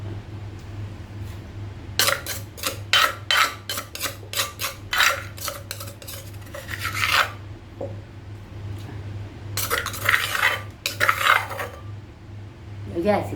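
Ingredients for a Thai steamed bamboo shoot dish go into a cooking pot and get stirred, giving bursts of bright metallic clinks and clatter from utensils against the pot over a steady low hum.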